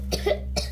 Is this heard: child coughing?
yes